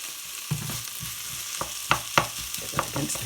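Tomato puree fries in a pan of bean bolognese, a soft steady sizzle broken by several sharp scraping stirs and spatters, close by with no voice.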